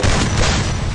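Rapid, loud gunfire from the Free Fire battle game, a dense continuous burst of shots filling the whole second with no pauses and no voices over it.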